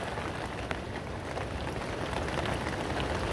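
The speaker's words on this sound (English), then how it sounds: "So that you hear that rain." Heavy rain pours during a windy storm, a dense, steady hiss of drops hitting surfaces close by, continuous throughout with no voices.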